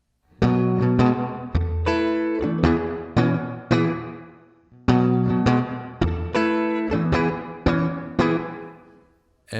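Guitar chords played through a Source Audio Collider reverb pedal set to a short decay, each strummed chord ringing and fading quickly before the next, in a steady repeating pattern with no talking.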